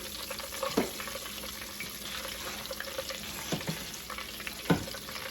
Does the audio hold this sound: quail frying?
yes